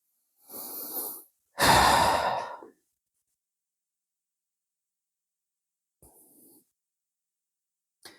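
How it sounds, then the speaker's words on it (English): A yoga class on a Friday morning: two long, deep breaths, a slow sighing exhale and then a forceful, full one, followed by silence and a faint, soft breath near the end. Nobody speaks. "Nice long exhalations."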